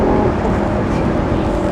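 Lamborghini Gallardo Performante engine running in Corsa mode, a loud steady roar from inside the cabin over 1.7 seconds. No distinct gear-shift crack stands out, only continuous dense engine noise.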